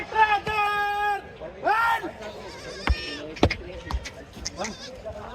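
Goats bleat repeatedly at a busy livestock market in Chalisgaon, several loud, wavering calls up close with a babble of voices and market noise underneath.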